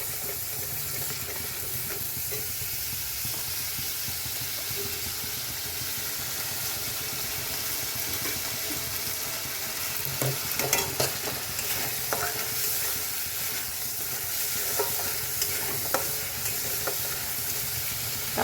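Garlic and ginger paste frying in a pan for egg korma, a steady dense sizzle with stirring and scraping, a few sharper clinks and spatters in the latter half, no talk.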